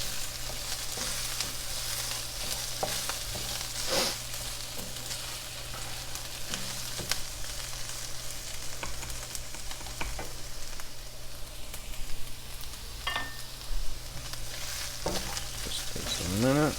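Tomato paste sizzles and fries in a pan while being stirred, producing a constant soft crackle with occasional scrapes and clicks of the utensil against the pan, moderately quiet and close.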